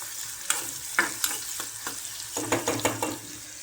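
Onion frying in hot oil for a home chicken curry: a steady high sizzle with a spoon stirring and scraping the pan in several irregular knocks, close by, with no talk.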